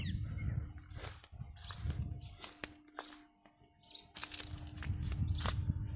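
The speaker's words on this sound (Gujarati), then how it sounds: "જો અહીંયા ઘણા પોપટ ઉડ્યા." A flock of parrots takes off near a well on a wheat farm, a series of soft wing-flapping bursts with scattered chirps. The sound is fairly faint and comes from outdoors.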